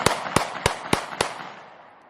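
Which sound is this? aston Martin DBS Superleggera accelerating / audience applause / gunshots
gunshots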